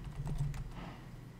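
Brief patter of keys typed on a computer keyboard, a few quick soft taps close by and fairly quiet, with no voices.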